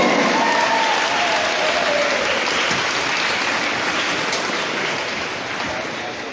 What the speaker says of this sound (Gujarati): તમામ માટે જોરદાર તાળીઓ